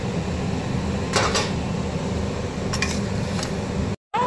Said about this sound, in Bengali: দিয়ে দিচ্ছি মাছ আর আলুগুলো।